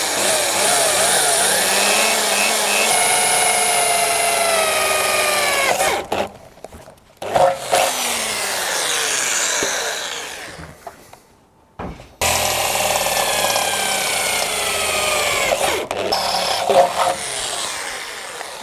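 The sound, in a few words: drilling holes in metal with drill bits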